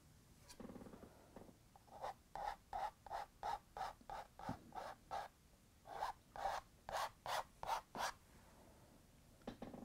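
Material being scraped off a surface in a steady series of about eighteen short rasping strokes, each a brief close scratch with a gap between, quiet overall with no talk.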